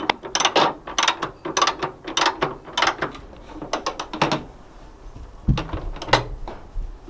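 Rapid ratcheting clicks come from a socket ratchet tightening a Nissan Pathfinder bonnet strut, running in close bursts for several seconds before a few slower, heavier mechanical clunks.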